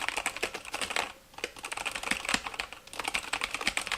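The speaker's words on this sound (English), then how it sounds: "I'm typing a lot of nonsense right now, but just so you can kind of get it here" Fast typing on a Patriot Viper V760 mechanical keyboard, a dense patter of close crisp key clicks with a short pause near the second mark before the rapid keystrokes resume, no voice present.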